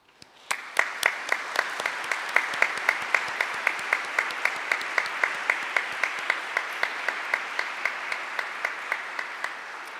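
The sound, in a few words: audience applause for alumni wind ensemble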